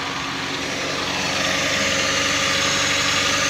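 A 2024 Kia Sonet's engine idles with a steady, even hum that is close and continuous, with no talking over it.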